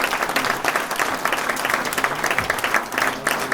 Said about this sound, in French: Vous pouvez applaudir à Nicole Duclos